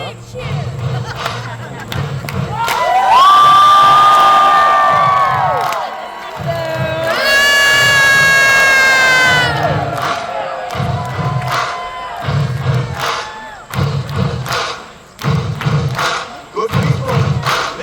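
Crowd cheering and whooping at a renaissance festival joust, swelling in two loud bursts with high shouts and children's cries, with announcer speech and rhythmic thumps between them.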